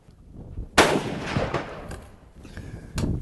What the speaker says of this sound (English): I'm going to shoot the 200-yard target